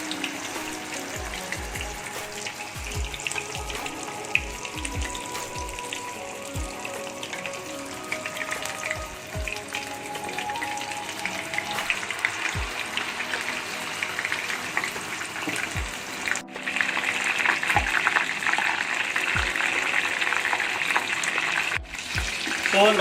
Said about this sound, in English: we are just going to swirl the oil little bit and leave them in the oil.